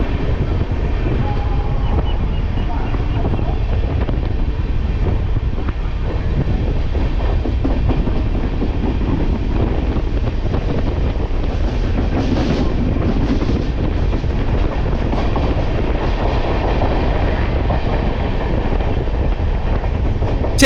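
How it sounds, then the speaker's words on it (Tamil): The Cholan Express passenger train, departing Tambaram in Chennai, rumbles loudly and continuously along the tracks, with a steady rhythmic clatter of wheels on rails. "தாம்பரம் ரயில்வே ஸ்டேஷன்லேருந்தும் இந்த சோழன் எக்ஸ்பிரஸ் ஸ்டார்ட் ஆகிடுச்சிங்க"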